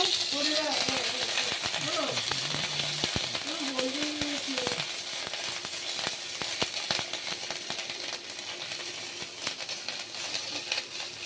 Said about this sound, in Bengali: আদাটা তেলের মধ্যে দিয়ে দিলে খুব ছিটোয়।